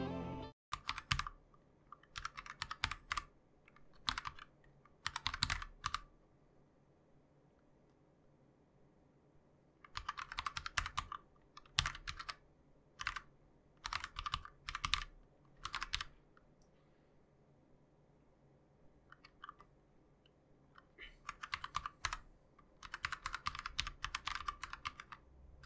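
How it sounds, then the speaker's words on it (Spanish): Typing on a Xiaomi MK01 mechanical keyboard fitted with red switches and alloy keycaps: bursts of soft, rapid keystrokes separated by short pauses, close and fairly quiet, with no voices. "los Red Switches no son muy ruidosos y aparte la aleación de las keycaps hace que sean mucho menos ruidosos que otros teclados mecánicos."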